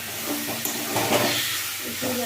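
Spice masala fries and is stirred in a pan over medium-low flame for a spinach-stem, potato and eggplant vadi curry, giving a steady close hiss and sizzle with soft scraping surges throughout.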